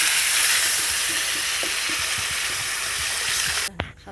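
Water poured into a pan of sizzling spiced potato and onion curry, giving a loud, steady hiss with light stirring knocks that suddenly cuts off near the end.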